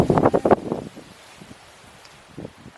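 Wind outdoors in Alaska in July gusts loudly against the microphone in rough buffeting bursts, then abruptly drops away to near quiet with only faint rustling left.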